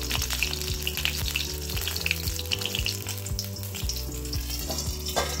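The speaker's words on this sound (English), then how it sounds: "let's roast it in this oil for at least 5 minutes" Four small tomatoes roast in oil in a pan over a low flame, giving a continuous close sizzle. A low steady hum runs beneath it throughout.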